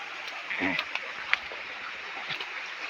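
Light monsoon drizzle patters near a swollen village stream dammed to hold water in the Konkan countryside, a steady soft hiss with a few faint splashes and knocks.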